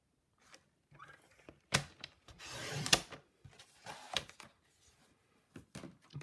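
Cardstock being cut down to size on a paper trimmer for a handmade card, with a few sharp clicks and a short sliding cut rasp, near and quiet, in otherwise silent gaps.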